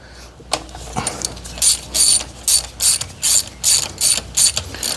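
A hand ratchet loosening a nut on a 2020 Toyota Avalon TRD, a few scattered clicks then a run of about eight loud, evenly spaced ratcheting bursts close up.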